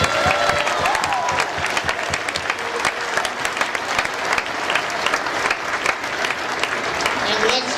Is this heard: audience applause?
yes